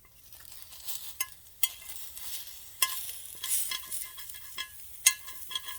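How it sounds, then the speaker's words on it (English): Egg bites cook on a hot plate, a soft, steady sizzle and frying hiss under scattered sharp clicks and scrapes of utensils, close by and fairly quiet, with no talking. "I'm going to see if I can get it closer so you guys can hear the sizzle"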